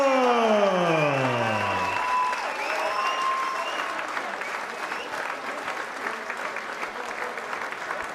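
Loud arena crowd applause after a British bantamweight title boxing bout ends in a count-out win, opening with a few falling tones and then settling into steady, broad clapping and cheering that slowly fades.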